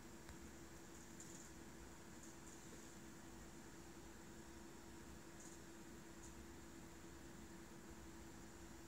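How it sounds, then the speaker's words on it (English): An air conditioner and two old computers hum together in a room, a very faint, steady broadband whir with a low tonal drone, unchanging and continuous with no voices. "what you are hearing here is AC and two other old computers in the room"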